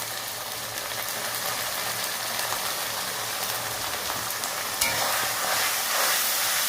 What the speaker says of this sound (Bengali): মশলাটাকে আমরা ভালো করে কষিয়ে নেব